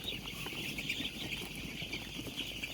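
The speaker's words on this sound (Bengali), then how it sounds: "1200 ব্রয়লার মুরগি" About 1200 ten-day-old broiler chickens in a poultry shed in winter, producing a soft, steady mass of cheeping and clucking against a low background rumble.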